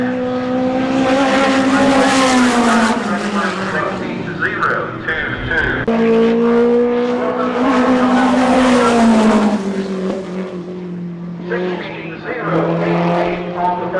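NAMARS midget race cars lapping a track at Winchester, Indiana, with high revving engines rising and falling as they pass and fade, loud and steady, under a commentator talking throughout.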